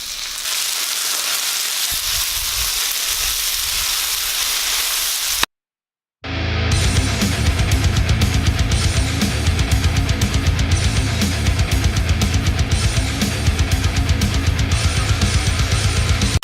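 Bacon and pulled pork sizzle loudly and steadily on a Blackstone griddle for a smashburger, a dense continuous frying hiss that drops out to silence briefly before resuming even stronger.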